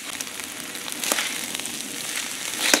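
Vegetables and rice fry on a biomass stove built from house debris, giving a steady close sizzle and crackle throughout, with a few sharper pops along the way.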